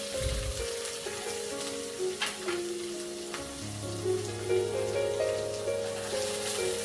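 Chopped beans, carrots, capsicum and peas fry in a pan for vermicelli upama, giving a steady close sizzle with occasional stirring scrapes over a low hum.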